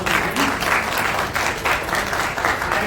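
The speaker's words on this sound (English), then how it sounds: "The big round of applause" Continuous applause fills a hall at an awards and closing ceremony of a national university symposium, dense clapping with a slightly pulsing rhythm and no talk over it.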